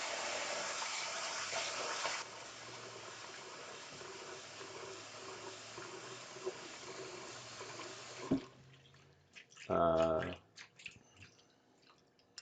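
Cold tap water gushes steadily and loudly to wash long grain rice, then cuts off abruptly, followed by a few quiet clinks and a short bubbling splash.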